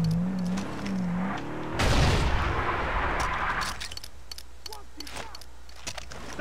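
Grenade blast in the Far Cry 3 shooter game, a loud broad burst with a rumbling tail, followed by scattered sharp gunfire-like cracks in the background.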